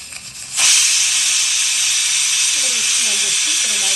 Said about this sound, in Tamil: விசில் வந்துச்சு. இப்போ நம்ம அடுப்பு ஆஃப் பண்ணிட வேண்டியதுதான்.